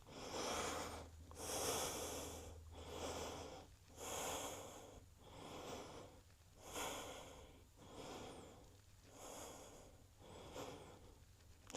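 Slow, deep breathing through a power yoga sequence: about seven long inhale-exhale cycles, airy and even, close to the mic but quiet, with no talk over them.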